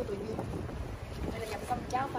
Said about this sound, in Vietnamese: Gió thổi lồng lồng về bờ sông rất là bình yên luôn mọi người ơi.